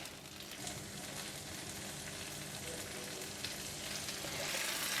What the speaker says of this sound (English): we're going to pour in the deep fried prawns and the spring onions. Saute just enough to coat the prawns with the sauce